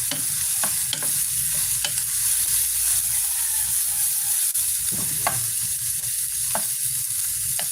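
Eggplant omelette sizzles steadily in a pan, a dense continuous hiss broken by occasional scrapes and taps of a utensil, close up with no one talking.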